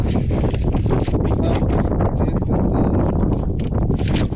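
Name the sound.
wind blowing on a hilltop field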